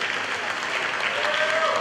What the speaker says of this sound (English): Let's give him a big round of applause though.